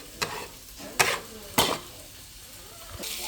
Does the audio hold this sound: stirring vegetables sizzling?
yes